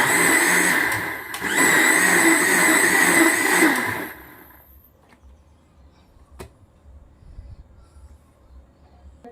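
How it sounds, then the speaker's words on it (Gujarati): A mixer grinder blends a mango ice cream mixture with added milk, loud and whirring for about four seconds before cutting off, leaving faint room sounds and a couple of small clicks. "પાછું આપણે એકવાર મિક્સર ચલાવી લેશું."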